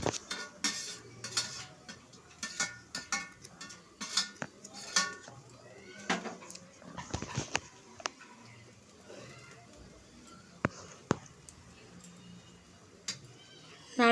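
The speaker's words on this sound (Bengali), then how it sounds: "এবার ভালোভাবে একটু ভেজে নেব, একটু হালকা হাতে নেড়ে নেব।" Grated coconut is stirred and dry-roasted in a kadai, with a spatula clinking and scraping against the pan in irregular bursts, close and fairly quiet, with no one talking.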